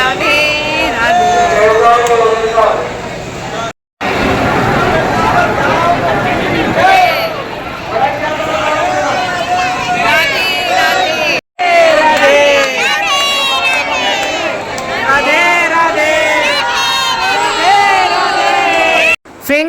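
A dense crowd packs the Banke Bihari temple in Vrindavan in the morning, with loud, continuous babble, calls and chanting voices close around, broken by a few brief silent gaps.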